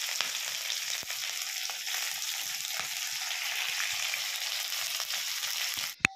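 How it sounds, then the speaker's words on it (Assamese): Onions sizzle in hot oil in a pan, a steady close crackling hiss that holds for several seconds and ends with a brief clatter at the finish. "পিঁয়াজ ভাজি হৈ গ'ল।"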